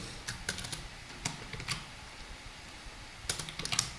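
Quiet computer keyboard typing of Java code, with irregular bursts of key clicks and short pauses in between, heard close and without talk.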